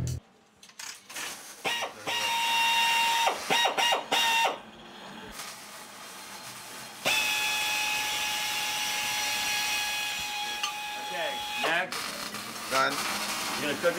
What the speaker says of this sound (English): what would a monster kitchen be without a pneumatic egg beater?